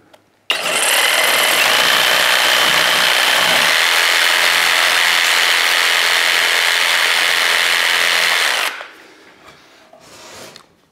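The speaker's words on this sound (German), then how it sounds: "Ich setze dann einfach die Stichsäge an." A jigsaw cuts a groove for a profile into drywall for a bathroom niche, starting abruptly and rasping loudly and steadily for about eight seconds before cutting off, followed by faint handling sounds.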